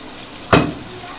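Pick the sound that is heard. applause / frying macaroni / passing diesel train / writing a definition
frying macaroni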